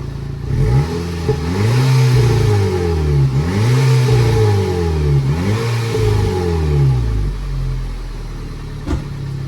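A car engine with a muffler delete revs up and down in several repeated surges, loud and close, with a raspy, throaty exhaust tone between pulls.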